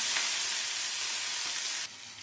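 Green chili and ginger paste fries with cumin in a hot pan, giving a loud, continuous sizzle with light stirring scrapes that softens abruptly near the end.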